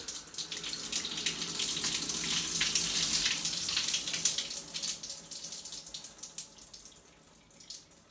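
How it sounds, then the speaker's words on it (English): Water about 30 degrees warm is tipped from a jug over a face, a steady splashing pour lasting several seconds before thinning into trickles and drips. "take this lovely jug of water, tip it over my face"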